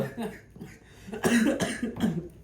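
Several harsh coughs burst out in quick succession, close and loud, amid some voiced sounds.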